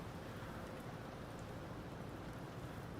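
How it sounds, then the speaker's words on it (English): Steady rain falls on a dark night in the submarine game UBOAT, a soft even hiss of rainfall, faint and continuous, with no voices. "it's raining, bad weather."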